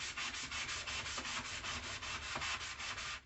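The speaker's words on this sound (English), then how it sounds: "So we're just going to begin sanding this now." Coarse grit sandpaper rubbing back and forth over a mirror frame in steady, rapid strokes, a continuous close scratchy rasp with no talking.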